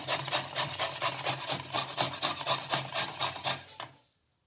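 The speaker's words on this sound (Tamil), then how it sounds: "இப்போ இத துருவி எடுத்துக்கறோம். மீடியமா இருக்கதுல துருவிக்கலாம்." Pumpkin for halwa being grated on a medium grater, an even run of quick rasping strokes close by, about a dozen in a steady rhythm before stopping into silence.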